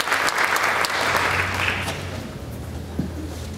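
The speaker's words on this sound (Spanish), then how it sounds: "Yo quiero que le demos un fuerte aplauso a estas hermanas" A church congregation giving loud applause during a Spanish-language service, a steady, full burst of clapping that gradually softens, with a low hum and a few voices beneath.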